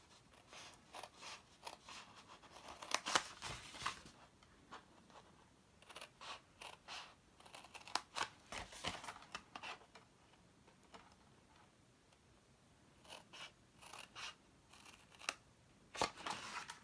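Scissors cut card for a gift box, giving quiet, close, sharp snips in irregular bursts with short pauses between clusters of cuts.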